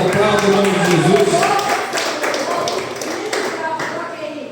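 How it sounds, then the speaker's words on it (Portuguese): A congregation applauds in a church at a youth conference, a steady patter of clapping that carries under a voice speaking and singing. "aplauda o nome de Jesus"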